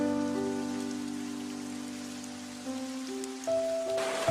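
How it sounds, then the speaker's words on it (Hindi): Steady cartoon rain falls throughout, an even wash of drops from start to end, with a sustained musical drone underneath and no talking. "लगता है ये बारिश अभी रुकेगी नहीं।"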